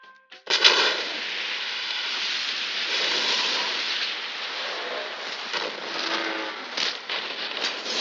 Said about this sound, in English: Starting with Heath Ledger's explosion scene in Dark Knight.